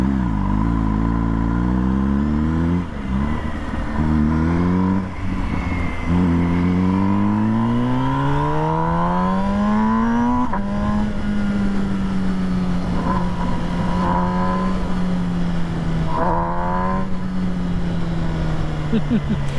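A loud, close MV Agusta Brutale 1000 RS motorcycle engine revs hard, its pitch climbing repeatedly through the gears, then settling into a steady high drone.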